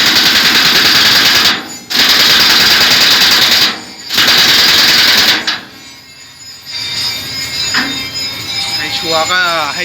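A large socket on an impact wrench hammers at trailer bushings during a three-axle trailer bushing replacement in a workshop, giving loud sustained rattling bursts broken by short pauses, then quieter clatter and a voice.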